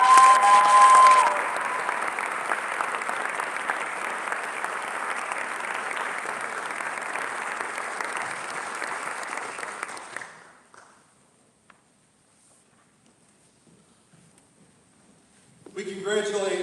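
A large audience at a college honors convocation gives sustained, loud applause for an award recipient, with dense clapping for about ten seconds before fading to silence, then a voice begins speaking.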